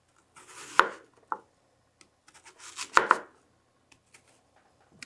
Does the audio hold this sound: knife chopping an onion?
yes